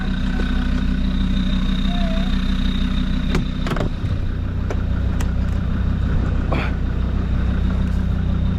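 Car engine idling on narrow country lanes in North Wales, a steady low hum running throughout, with a few brief sharp clicks and knocks over it and no talk.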